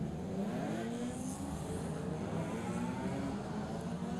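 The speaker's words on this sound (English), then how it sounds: "So the roar of a BMW safety car that leads them off the line." A BMW safety car's engine roars steadily and loudly as it leads the field off the line at the start of a BMW CCCT series race, a continuous dense rumble with no voices.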